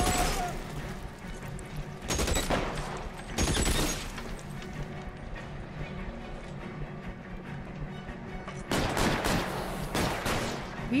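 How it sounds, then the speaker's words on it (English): Repeated gunfire from a shootout in the video game L.A. Noire, with loud bursts of shots in several clusters over ongoing game noise and background clatter. "Who are you shooting at?"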